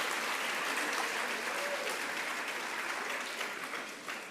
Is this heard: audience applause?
yes